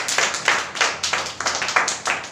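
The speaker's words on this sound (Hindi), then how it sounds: "ताली बजाओ जी।" A crowd of people at a religious gathering claps in a steady, loud rhythm, each clap close and sharp in rapid sequence, with no talking.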